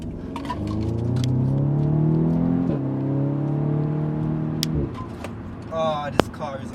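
An Audi S3 engine is held at high revs for a launch, a loud, steady droning hum that suddenly drops away, with people talking nearby.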